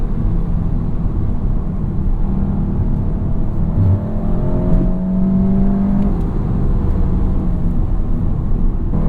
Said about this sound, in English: Kind of sounds fun off the rev limiter there.